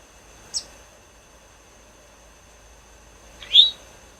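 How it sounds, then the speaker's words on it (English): Eastern towhee calls in woodland, two separate short bright notes, the first brief and faint, the second a louder rising whistle a few seconds later, over a quiet background. "When you hear towee, towee, you'll know, aha, that's the towee telling me his name."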